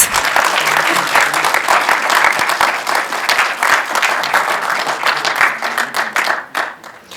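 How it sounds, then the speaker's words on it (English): Audience applause at an Assyria Day celebration summit, loud and dense clapping from a large crowd that carries steadily before thinning out toward the end. "Can we have another round of applause, please, guys?"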